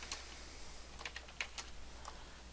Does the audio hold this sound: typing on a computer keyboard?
yes